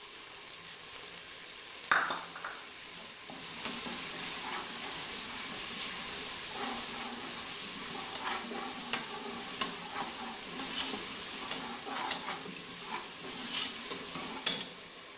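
Crushed garlic fries in a pan of oil for a mutton tripe dish, a continuous close sizzle and hiss broken by scattered scrapes and pops from stirring, with no talking.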